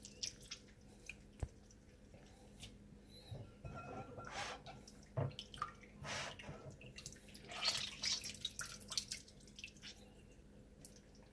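Raw fish for kilaw is rinsed in water, with irregular close drips, splashes and squishy handling sounds scattered through a quiet background.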